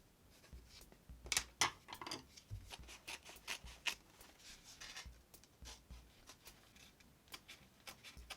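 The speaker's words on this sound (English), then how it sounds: "So I'm going to cut a piece to fit the stencil." Scissors snip a leftover piece of home-improvement material to fit a stencil, with a string of soft, close cuts and rustles coming in uneven bursts and no voices.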